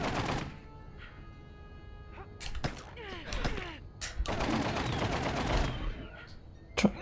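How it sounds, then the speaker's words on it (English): Bursts of gunfire aimed at raptors in The Lost World: Jurassic Park on the PS1, sharp repeated shots coming in clusters that stand out loudly against quieter game sound between them. "Shoot stupid raptors."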